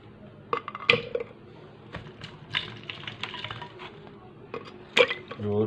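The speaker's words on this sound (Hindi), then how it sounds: "तो अब हम इसमें थोड़ी सी डालेंगे बर्फ़" Ice going into a lemon masala soda: a few sharp, close clinks and rattles of cubes against the glass, spread across a quiet background.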